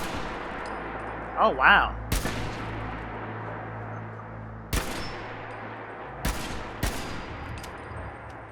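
Gunfire from a small-clip gun in Fallout 4, several sharp separate shots spaced a second or two apart over a steady game background, with a brief exclaiming voice in between.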